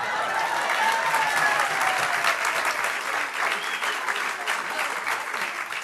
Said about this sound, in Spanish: debes darte un aplauso bien grande.